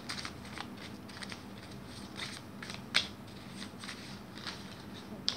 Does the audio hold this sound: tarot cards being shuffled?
yes